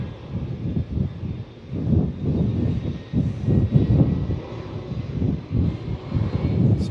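Jetstar aircraft pushing back and starting their engines at Melbourne Airport, a steady low rumbling engine roar heard from a distance with gusts of wind noise, continuous and fairly loud.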